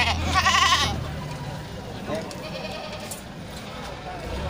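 Goats and sheep bleating at the Grogol livestock market, one loud bleat at the start followed by crowd and market bustle with voices in the background.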